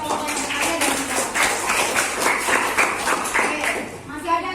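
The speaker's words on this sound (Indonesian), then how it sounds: "tepuk tangan sekali lagi buat kelompok yang bertanya dan menjawab" Students in a classroom clap for a group, a lively burst of many hands tapping together at close range for several seconds before it tapers off.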